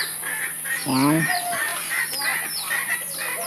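Chickens cluck and a rooster-like call rises in the background of a Filipino home setting, several close, scattered calls over a steady high hiss, with a voice briefly speaking.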